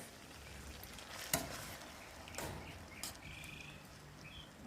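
Garlic sizzling in olive oil in a pan for Jamaican-style lobster in garlic butter, a faint steady fizz with a few louder clattering stirs and scrapes, no talking.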